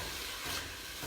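Vinegar and sugar hit a hot pan of browning rhubarb for chutney, producing a steady, close, soft sizzling hiss that lasts about a second.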